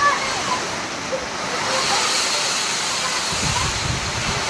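Steady, heavy rush of wind and falling water, a dense hiss filling the whole clip with a low rumble swelling toward the end.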